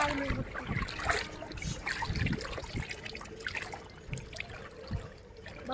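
River water at a high level flows and gurgles steadily nearby, a continuous rushing wash with occasional splashes and some wind noise.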